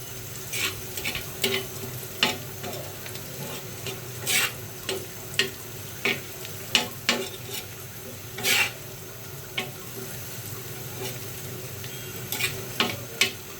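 Onions sizzle steadily in a pan while a spoon scrapes and stirs in irregular clacks, close by, with no talking.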